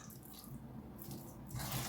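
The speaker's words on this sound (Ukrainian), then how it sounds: "Змочила руки трошки водою" Running tap water splashes softly over hands, a steady close wash that swells louder near the end.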